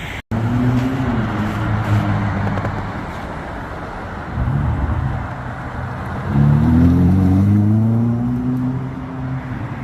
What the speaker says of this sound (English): So that car you just saw in the last clip was none other than a Ferrari SF90 Stradale.